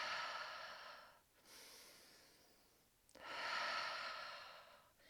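A breathing exercise demonstration: two long, deliberate breaths drawn audibly through the nose and released, close and quiet, with a pause between them and no talking.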